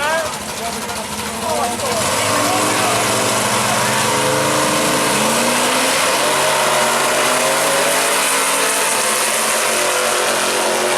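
Gasser drag race cars in the Gasser Eliminator final at a Gulfport drag strip, loud engines roaring and revving steadily throughout, with a crowd or announcer voice mixed underneath.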